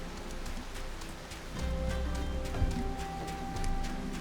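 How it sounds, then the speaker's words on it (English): Heavy rain falls in Final Fantasy XIV at Camp Drybone in southern Thanalan, a steady hiss of rain and pattering drops joined by soft game music tones, with no talk. "Raining real bad here."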